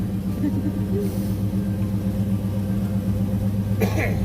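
A 1986 Ford Mustang LX Foxbody's engine runs steadily up close, a deep continuous rumble with a strong low throb that holds even throughout and never lets up.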